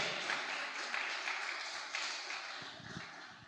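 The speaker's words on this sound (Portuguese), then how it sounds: "Pode aplaudir ao Senhor." A church congregation applauding: steady, fairly distant clapping from a crowd, soft and even throughout, fading slightly toward the end.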